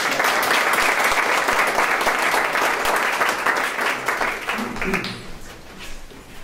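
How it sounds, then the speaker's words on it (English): A large school forum audience applauds loudly and steadily, a dense wash of clapping that thins out and fades near the end. "Can we give them a round of applause?"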